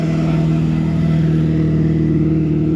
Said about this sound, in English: ooh, that car sounds nice